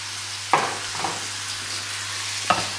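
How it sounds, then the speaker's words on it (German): Onions and sliced meat frying in butter in a pan, a steady sizzle with a few louder stirring scrapes near the start and end. "braten wir ein paar schöne Zwiebeln an und wir haben hier schon mal das Geschnetzelte vorbereitet"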